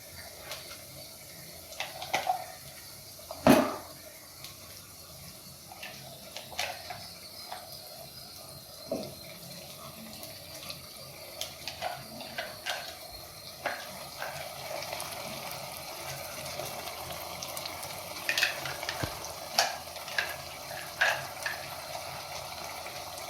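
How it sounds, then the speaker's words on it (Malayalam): Crushed onion, shallot and tomato fry in a pan for a Tamil Nadu style barracuda fish curry, giving a soft, steady sizzle with occasional small pops and clicks and no talking. "നമ്മൾ ചതച്ച് വെച്ചിരിക്കുന്ന ഉള്ളിയും സവാളയും തക്കാളിയും ചതച്ച് വെച്ചിരിക്കുന്നത് ഇട്ട് കൊടുക്കാം."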